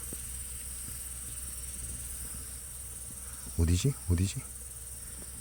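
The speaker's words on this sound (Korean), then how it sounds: "귀뚜라미 어디 갔냐?" Crickets chirp in a continuous high, steady drone. Someone briefly speaks partway through.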